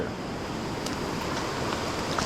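Water tumbles down a small waterfall beside a trail-running route, a steady hiss-like rush with faint wind, moderately distant and without voices.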